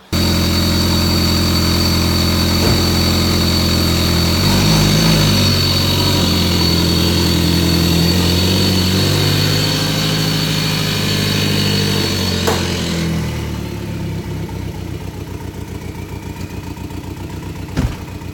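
A Volkswagen Jetta with a blown turbo seal runs steadily with a loud, close engine drone and vibration, then drops to a quieter, thinner hum for the last few seconds.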